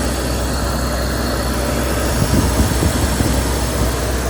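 A cold BMW E46 engine runs at a loud, steady idle, close by, with a constant droning hum throughout. It is heard after coolant work and while the power steering is being bled.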